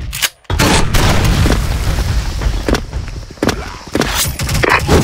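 Grenade blasts in the SF Rush shooter game, a loud boom opening the clip followed by a dense barrage of repeated gunfire and further explosions, close and continuous.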